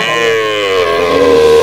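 A Sahiwal calf at a cattle market in Barura, Comilla, gives a short, loud, close-up moo with a drawn-out tonal bleat.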